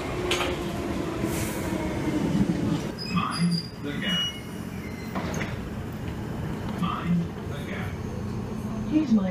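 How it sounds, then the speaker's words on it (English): Underground metro train at a station platform, with rumbling carriage noise, door and rail clatter and a platform announcement heard throughout over steady crowd and station ambience. "Please mind the gap between the train and the platform."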